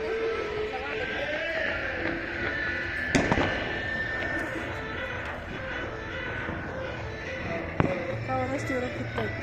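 Firecrackers burst during a street celebration of an India cricket win in Pune, with a couple of sharp bangs standing out over a steady wash of crowd noise and people talking nearby.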